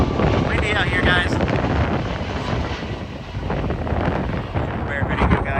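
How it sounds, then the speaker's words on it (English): Strong gusting wind buffets the microphone outdoors at Minneapolis–Saint Paul airport during plane spotting, a loud continuous roar and rumble throughout, with faint jet aircraft noise underneath. "Windy out here, guys."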